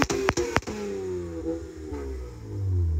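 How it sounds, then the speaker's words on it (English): A new Nissan 400Z at a street car meet gives a few sharp clattering knocks. Its engine note then builds into a rising rev near the end, moderately loud, with no speech. "I told Davis to rev it because we need some action over here"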